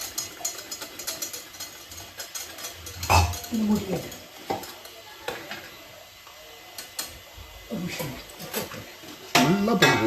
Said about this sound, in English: we'll mix in the blended paste along with this